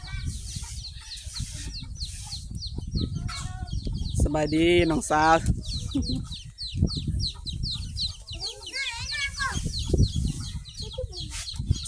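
Chickens clucking and calling around a rural village home in Laos, with short repeated clucks and a louder squawking burst midway, while people talk nearby.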